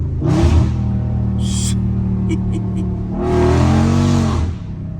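Dodge Scat Pack engine revving hard twice, deep throaty roars rising and falling close by, with a short gap between the bursts.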